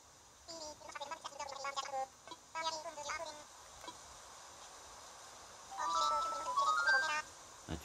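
In the Animal Crossing video game, a telephone ringtone plays in short, bright melodic bursts of chiming notes, with quieter gaps between them and a longer final phrase.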